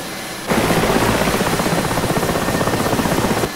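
A Mil Mi-8 MTV helicopter in the DCS flight simulator roars in abruptly after a brief quiet start, then holds a loud, steady rotor and turbine drone with a rhythmic blade pulse, no talking.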